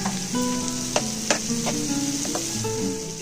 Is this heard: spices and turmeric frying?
yes